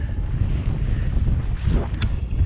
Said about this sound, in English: because the wind should come from here and then slightly change in the night